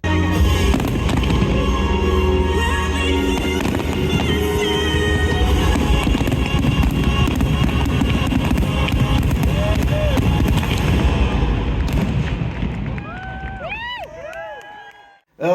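Fireworks display bursting just after rain stops: a dense, loud, continuous barrage of booms and crackles with crowd noise underneath, thinning at the end into a few whistling rockets.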